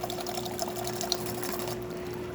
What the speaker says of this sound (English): Now we're gonna be using the hot water. As you can see, nice steady stream coming out of the machine